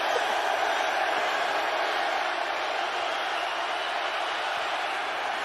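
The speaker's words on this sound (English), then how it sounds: "You hear the crowd getting loud." Large football stadium crowd at an XFL game between the St. Louis BattleHawks and Seattle Sea Dragons, a dense, steady roar of many voices that holds loud and unbroken throughout.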